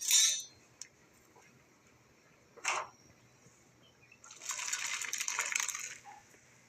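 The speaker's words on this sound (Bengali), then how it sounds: "কড়াই ধুয়ে বসাই দেব" A metal kadai is rinsed with water: a clink and splash at the start, a short clatter midway, then a longer gush of running water scraping around the pan near the end.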